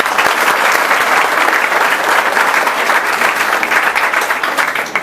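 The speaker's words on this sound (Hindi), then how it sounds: "आप लोगों के लिए तालियां जोरदार।" A large audience at an RAS coaching talk bursts into loud, dense applause, many hands clapping together in a continuous roar that holds steady for several seconds.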